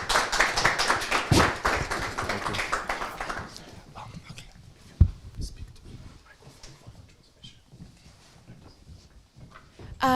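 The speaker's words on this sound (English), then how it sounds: "Please, a round of applause." Audience applause at a panel discussion on the future of work. A short burst of lively clapping fills the first few seconds, then fades into scattered taps, shuffling and a single sharp knock in a quiet room.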